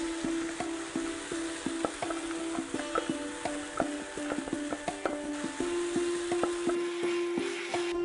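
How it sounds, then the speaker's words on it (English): Spinach being stirred into masala in a pan, a spoon scraping and tapping the metal in an uneven, steady rhythm of clinks, close and fairly quiet, with a faint sizzle underneath and no talking. "Just give a nice stir to this guy. Just mix up the whole thing."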